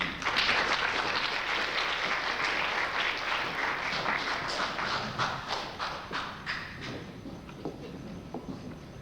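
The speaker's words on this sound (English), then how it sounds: "Let's give a big round of applause." Audience applause at a high school variety show, a broad wash of clapping from a crowd, strong at first and gradually thinning into scattered claps toward the end.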